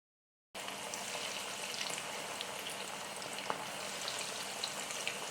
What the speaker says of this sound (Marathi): आता आपलं तेल तापलेलं आहे। आता आपण एक एक रोल सोडू।